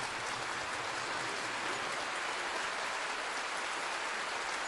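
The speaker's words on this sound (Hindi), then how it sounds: "आप सबकी तरफ से तालियां जोरदार होनी चाहिए" A crowd applauds at a government ceremony where watchman appointment letters are handed out, a steady, dense wash of clapping that holds evenly throughout without any voices over it.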